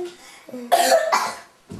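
A child at a birthday gathering coughs a few times in quick harsh bursts, close and fairly loud, with faint voices and household sounds around.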